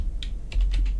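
A few quick keystrokes on a computer keyboard entering a hexadecimal colour code, crisp close taps in a short burst with no talk.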